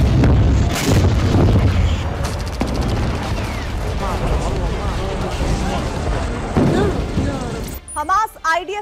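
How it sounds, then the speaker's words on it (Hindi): Israeli air strikes hitting Gaza's Hamad city, with fighter jets firing missiles: loud, dense, continuous rumbling blasts and crackling detonations, and a voice speaking briefly at the very end. "युद्ध के दूसरे राउंड में इजरायल के हवाई हमले बहुत बढ़ गए हैं"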